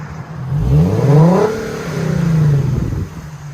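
A Black Cherry Nissan 370Z with a muffler delete revs hard twice, its loud raw exhaust rising in pitch then falling away, heard close with no one talking.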